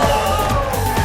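A live studio crowd cheers and whoops in a brief, dense burst of voices, loud and close, filling the whole moment.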